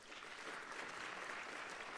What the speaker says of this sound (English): Can we please give that a warm round of applause?